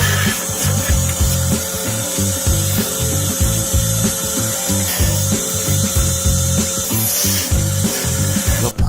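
A machine tool shapes a wooden goblet with continuous loud scraping and rasping, its cutting noise pulsing in rapid uneven strokes against a steady motor hum.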